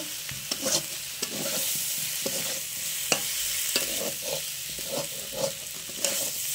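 Ginger-garlic paste with turmeric, chilli powder and dried chillies frying in a pan for a pond-crab curry, a steady sizzle broken by repeated scraping stirs and clicks of a spoon against the pan.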